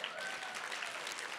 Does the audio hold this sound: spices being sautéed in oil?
no